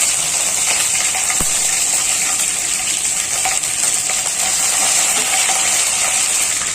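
Curry leaves crackle and sizzle steadily in hot oil for mutton varuval, a constant bright frying hiss with a sharp pop or two, close and without talk.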